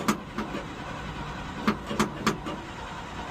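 An old car engine cranking as it tries to start, the starter turning over in a few spaced, uneven bursts that never catch, fairly close and moderately loud.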